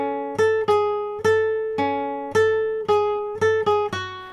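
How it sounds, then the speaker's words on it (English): A syncopated melody played alone on guitar without bass notes: about ten bright plucked notes, several falling off the beat, each ringing briefly, close and clear with no voices. "If you were to play it without the bass notes, it would sound like this."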